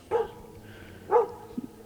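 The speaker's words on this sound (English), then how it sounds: "There's an animal still barking at us" A dog barks inside a dark tunnel, two distinct reverberant barks about a second apart and then a quick pair of softer yips, all at moderate distance.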